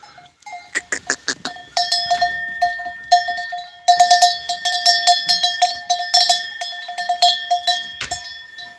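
Goats bleat repeatedly amid a steady clanging of cowbells, a busy herd close by with overlapping calls and bell rings.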